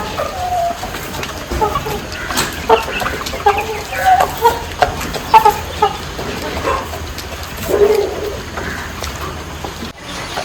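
Aseel fighting roosters and chickens cluck in short, scattered bursts around a farm yard, fairly close and moderately loud, with a steady low background hum throughout.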